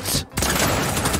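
A single loud gunshot in a first-person shooter video game cracks up close, fired through a wall, followed by a burst of dense gunfire and game noise.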